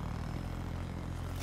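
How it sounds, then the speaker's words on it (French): Steady low engine drone of a helicopter flying overhead in the video game Call of Duty Black Ops III, a continuous rumbling hum that holds at even loudness throughout with no talk. "C'est un hélico allié ou ennemi? Je dirais ennemi."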